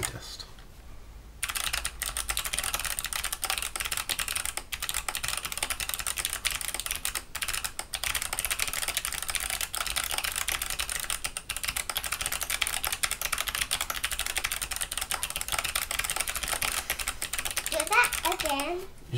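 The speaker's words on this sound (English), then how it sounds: "Okay, typing test." Fast, steady clatter of keys on a Hexgears Supernova mechanical keyboard with partially swapped switches, close and continuous for most of the stretch, with a voice briefly heard near the end.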